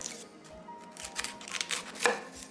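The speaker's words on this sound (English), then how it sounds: "Now just cut around the stem." A knife slices around the stem of a halved cauliflower on a board, a few short crisp cuts close by, with one sharper crunch near the end and no talking.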